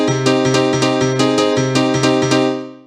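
Korg M1 piano in a '90s rave and Eurodance style, played with both hands, the bass note landing just ahead of each chord stab in a steady bouncy rhythm, bright and loud, ringing out at the end.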